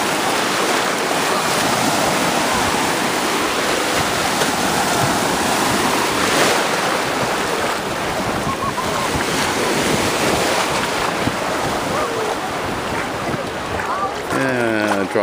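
Steady ocean surf and strong wind buffeting the microphone fill a beach scene, a continuous loud wash of noise with no clear breaks.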